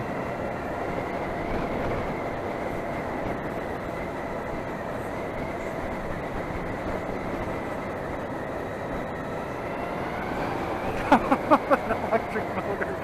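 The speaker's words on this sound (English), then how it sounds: "All you hear is the slight whine of this motor and the road. You hear the tires contacting the pavement." An electric motorcycle cruising in economy mode gives a steady, faint motor whine over a constant rumble of tires on pavement, with a few light clicks near the end.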